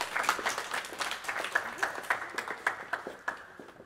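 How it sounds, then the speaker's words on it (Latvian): An audience at an ideas competition applauds a team with scattered, uneven clapping, individual claps standing out in a loose rhythm close by, with some voices mixed in underneath. "Ļoti labi aplausi saldē šokolādē."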